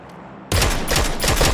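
Hip-fired gunshots in PUBG: after a quiet moment, a loud rapid string of close shots hits suddenly and keeps cracking in quick succession.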